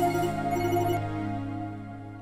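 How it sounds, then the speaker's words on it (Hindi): A telephone rings with a bright, steady electronic ringtone that repeats, then cuts off and fades into a lingering hum. "इस वक्त किसका फोन आ गया भाई?"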